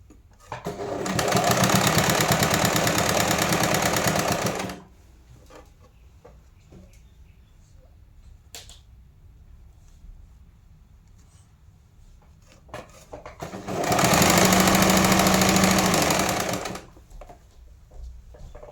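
A sewing machine runs along a double-folded fabric hem for a lehenga, two long steady whirring bursts close by with a quiet gap of faint handling between them.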